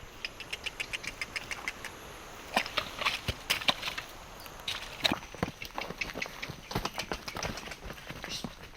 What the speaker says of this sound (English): Most villages are only accessible via these muddy trails, which even the horses had difficulty crossing.